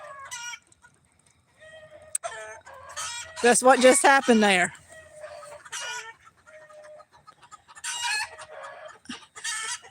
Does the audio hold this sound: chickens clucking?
yes